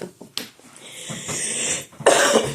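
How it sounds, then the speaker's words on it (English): A person with a lingering cough coughs a few times indoors, close and loud, with short sharp bursts and a rough throaty tail, no words spoken. "I still have this cough."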